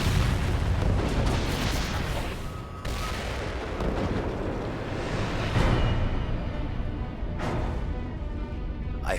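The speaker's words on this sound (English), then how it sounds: "To prevent it from falling into enemy hands, General Chafe gives the order to detonate the lot." A black powder weapons dump stocked with cannon and musket balls detonates in a huge, sustained roar, dense rumbling booms with heavy low-end rolling on for several seconds, loud and without speech.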